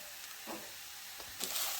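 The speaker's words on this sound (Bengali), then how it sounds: "এবারে খুব ভালোভাবে নেড়ে চেড়ে এটাকে আমি মিক্স করে নেব।" A cauliflower cutlet mixture with spices is stirred and mixed in a pan, making a few soft, faint scrapes and a light sizzle in an otherwise quiet kitchen.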